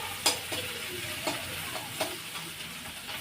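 Food frying in oil in a kadhai sizzles steadily at close range, broken by a few sharp scraping knocks of a spatula stirring against the pan, with no voices.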